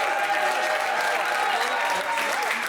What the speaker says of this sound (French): On peut les applaudir quand même